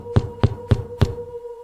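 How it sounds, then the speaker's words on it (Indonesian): Four evenly spaced knocks on a door downstairs, crisp and moderately loud over a faint steady hum, followed by quiet. "Terdengar suara ketukan di pintu bawah"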